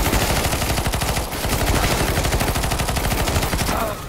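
PP Bizon submachine gun firing in Counter-Strike: Global Offensive, rapid continuous automatic bursts, loud and close, with a brief pause before firing resumes.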